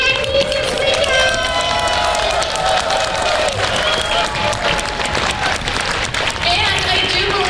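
Loud, sustained applause and cheering from a convention crowd at a fan event, dense and steady throughout with scattered whoops and voices mixed in.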